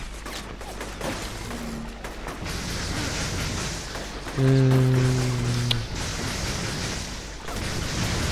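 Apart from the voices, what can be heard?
explosions and gunfire in video game inFAMOUS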